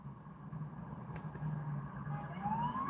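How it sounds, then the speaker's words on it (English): Emergency sirens pass by outside, faint and distant, with a thin rising wail over low traffic rumble. "all the sirens start passing by outside"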